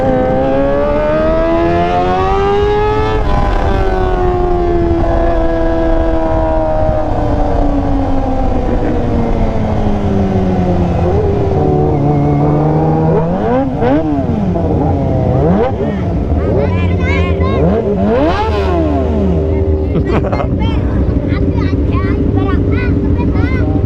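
A Kawasaki ZX25R fitted with a LeoVince LV10 exhaust revs hard near the microphone, its loud engine note sweeping up and down in repeated climbs and drops, with people talking in the background.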